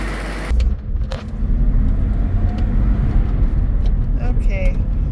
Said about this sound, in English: Okay, we're driving.